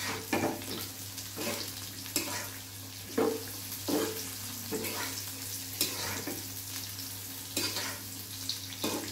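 Bay leaf and spices tempering in hot oil in a kadai give a steady close sizzle, broken every second or so by scraping stirs, with a low constant hum beneath and no talking.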